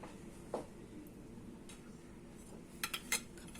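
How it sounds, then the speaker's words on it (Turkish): Dishes being loaded into a home dishwasher: a few faint clinks and clatters of plates and cutlery scattered over a quiet room background. "Bulaşıkları da makineye koydum arkadaşlar"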